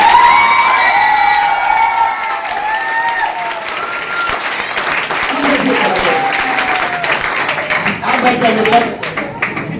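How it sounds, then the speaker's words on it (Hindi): A large audience at a network marketing celebration breaks into loud, dense applause with cheering, the clapping sustained and close throughout while voices shout over it. "उस तरह की ताली आप एक शानदार ताली बजाएंगे सर"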